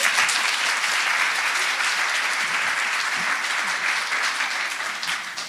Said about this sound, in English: quick round of applause, congratulations